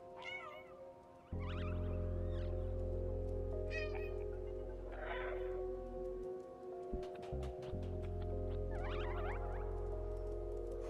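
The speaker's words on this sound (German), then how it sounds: "Miaue, um Feinde anzulocken." Cat meowing in the video game Stray, several short meows spread across the clip over a constant low game hum and ambient background, with no talking.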